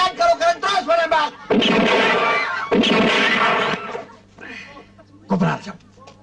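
Loud, harsh bursts of gunfire crackle close by during a standoff with terrorists, mixed with urgent shouting voices in Indonesian and a low steady hum underneath.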